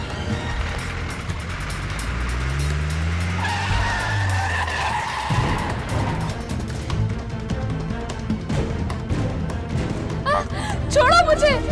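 A car skids during a chase scene in a Turkish drama, with a loud, sustained tire screech and engine roar up close, while voices shout over the action.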